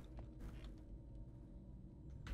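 A door creaking open in a Silent Hill-inspired haunted house horror game, a faint drawn-out groaning creak with mechanical texture over low ambient rumble.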